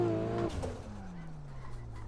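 A pro rally car drifts in the Inertia sim racing game, heard from an exterior view, with its engine note sliding steadily downward after a brief voice at the start.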